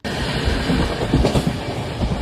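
A moving train near Viramgam rumbles and rattles steadily at close range, wheels clattering over the tracks, with no voices.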